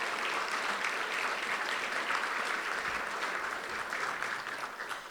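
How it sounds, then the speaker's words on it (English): Sustained audience applause fills an awards ceremony hall, the 2023 Defence Media Awards in Washington, dense and steady clapping from a large crowd for about five seconds before easing slightly at the end. "Please, round of applause for what we are going to be experiencing tonight."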